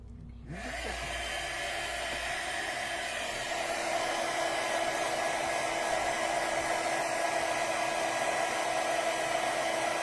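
A heat tool switches on and blows steadily to melt gold embossing powder on a Christmas card, a continuous loud whirring hiss that holds for the whole stretch.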